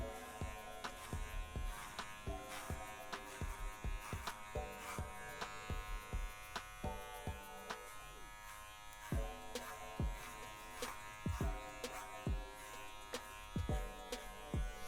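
Hair clippers fitted with a number 2 guard buzz steadily through a fade haircut, the motor's hum broken by frequent short strokes as the blade passes through hair.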